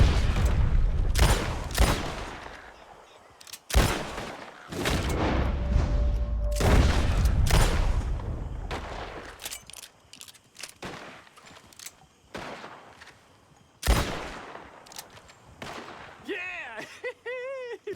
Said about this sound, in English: As soon as you see them, start shooting.